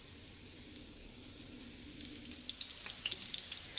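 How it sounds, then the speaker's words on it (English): Crispy chorizo, bean and cheese tacos fry in a pan over medium heat, giving a quiet, steady sizzle that picks up near the end with small crackling pops. "I am just going to cook these on each side until they are crispy and golden brown"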